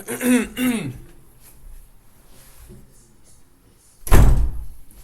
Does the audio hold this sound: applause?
no